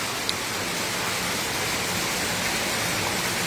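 Steady heavy rainfall, a dense, even hiss that fills the whole stretch without pause, constant in level and heard alone with no voices.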